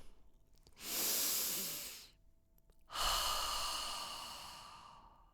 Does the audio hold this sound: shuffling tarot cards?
no